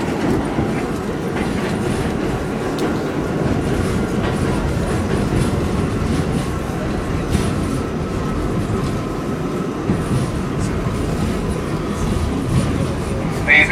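A New York subway R46 F train rolls along the tracks with a steady loud rumble and rhythmic clickety-clack of wheels, carriage noise continuous throughout.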